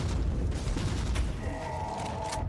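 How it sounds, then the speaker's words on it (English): Rapid bolt gun fire in the video game Warhammer 40K: Inquisitor - Martyr, a dense burst of booming shots with mechanical clatter, fairly faint and continuous. "So let's try with the bolt gun."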